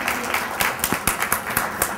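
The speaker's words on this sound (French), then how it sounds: "J'aimerais qu'on l'applaudisse." An audience at a spring fair gathering applauds together, a dense, steady wash of many hands clapping that holds strong for the full two seconds.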